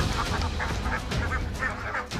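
Ducks quacking in a close, busy flock as contestants herd them into a colored circle during a race challenge on a travel reality show. Repeated quacks and honks keep overlapping throughout.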